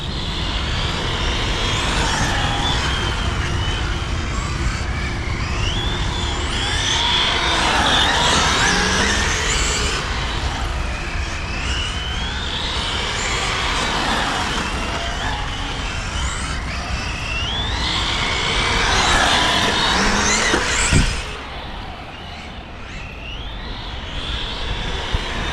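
An MJX Polo 7304 RC rally car accelerates repeatedly, its small electric motor whining in rising and falling waves over about twenty seconds before cutting off with a sharp knock near the end, and no voices are heard.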